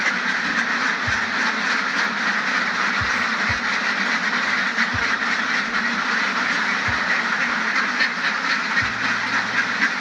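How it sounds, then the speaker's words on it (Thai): A dense, continuous chorus of many ducks quacking together on a duck farm as they head out to feed, a steady noisy din with occasional low thumps beneath. "ตอนนี้ก็กำลังสิไลตอนน้องเป็ดออกไปกินอาหารนะจ้ะ"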